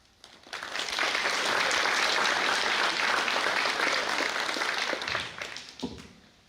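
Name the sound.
applause for students winning subject awards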